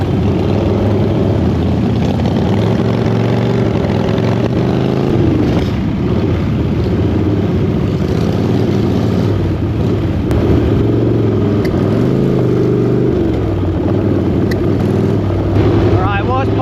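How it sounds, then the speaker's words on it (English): A Harley-Davidson motorcycle engine rumbles loud and close on a ride in the Peak District, a continuous low drone with a few short swells of revs. "I've just been giving it like short bursts of revs like this"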